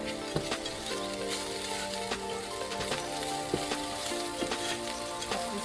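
Crushed habanero pepper with thyme sizzling and simmering in a pan for Jamaican beef patties, a soft, steady, close frying hiss with light scattered crackles and a few faint clinks, no voices.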